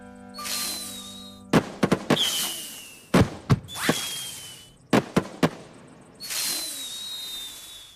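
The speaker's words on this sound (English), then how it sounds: "It's called fireworks." Fireworks go off in an animated Wild West setting: several whistling rockets climb, each followed by bursts of sharp, cracking bangs, some in quick clusters, with no speech.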